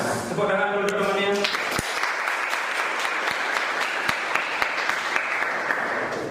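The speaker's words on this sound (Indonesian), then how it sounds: "Tepuk tangan dulu teman-teman." Students in a classroom break into applause after a short spoken line, the clapping building into a steady, lively patter with a few louder individual claps standing out.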